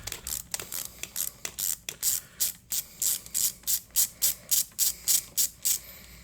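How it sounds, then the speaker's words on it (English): A ratchet loosening large engine mount bolts on a Chevy Cruze 1.4L turbo, giving loud, close, rhythmic bursts of clicking that come in quick, regular back-and-forth strokes. "We're going to go ahead and just take these bolts that I was showing you out here."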